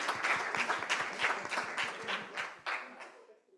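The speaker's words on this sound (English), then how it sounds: "I'm clapping here for everyone, and at least on site, I'm not the only one." Applause from a group of people, dense overlapping claps that gradually thin out and fade toward the end.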